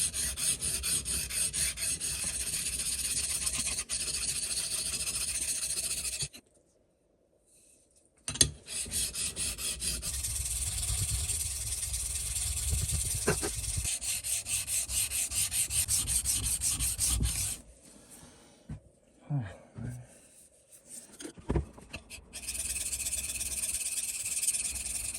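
A cheap Chinese chisel is flattened on sharpening stones, its blade rubbing back and forth in a continuous close rasping scrape, broken by a few brief pauses, with no talking.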